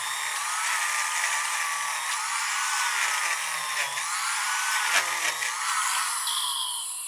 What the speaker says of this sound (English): So all we want to do is grind out some air channels.